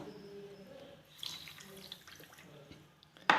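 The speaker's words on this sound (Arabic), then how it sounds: "نزيد عليهم نص كاس ماء بارد هكذا" Half a glass of cold water pours into a pot holding sugar for a homemade syrup, a soft, steady splashing trickle heard close up, ending with a brief sharp clink.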